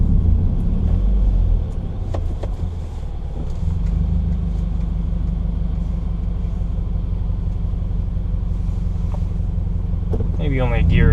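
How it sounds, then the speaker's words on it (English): Exhaust of a car running with no silencer, heard from inside the cabin: a loud, low rumbling drone that holds steady, easing slightly after a few seconds and building again toward the end. "exhaust sounds like from inside the car."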